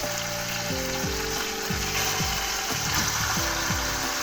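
Meat browning in a pot for couscous, a loud, dense, continuous sizzle heard up close, with a low mechanical hum and repeated descending tones running beneath it.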